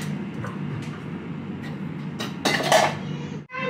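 Dishes, glasses and pans clatter in a home kitchen after a dishwasher run, with a steady low hum underneath and a louder burst of clinking and rattling near the end.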